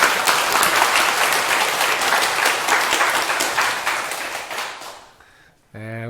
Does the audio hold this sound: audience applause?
yes